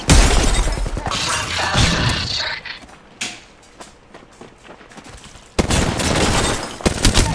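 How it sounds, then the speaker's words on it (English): Gunfire in the Apex Legends video game, loud bursts of rapid shots with crashing impacts at the start, a quieter gap in the middle, then another heavy burst near the end. "Shooting."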